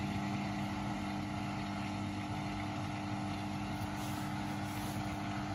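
A Beko WMB91442LW washing machine on its final spin of a Woollens 40° cycle gives a steady, loud, droning whir with a constant low rumble and hum, unbroken from start to finish.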